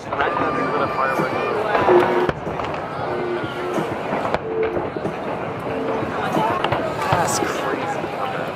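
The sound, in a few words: Fourth of July fireworks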